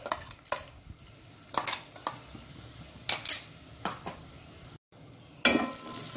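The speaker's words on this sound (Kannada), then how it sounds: "ಈಗ ಇದರಲ್ಲಿ ನಾವು ಸಣ್ಣ ಉರಿಯಲ್ಲಿ ಅಂದರೆ ಮೀಡಿಯಂ ಫ್ಲೇಮ್ ಇಟ್ಕೊಂಡು ನಾವು ಇದರ ಹಸಿ ವಾಸನೆ ಹೋಗೋ ತನಕ ಹುರಿಯೋಣ" Green masala with ivy gourd roasting in a pan over a medium flame, a soft sizzle broken by repeated scraping and clinking strokes of a spoon against the pan, close and unvoiced, with one brief dropout.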